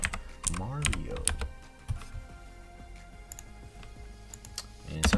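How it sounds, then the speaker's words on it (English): Clicky typing on a computer keyboard, scattered taps and short runs of keystrokes near the microphone, with a brief burst of speech at the start and a little more at the end. "I can't type today apparently"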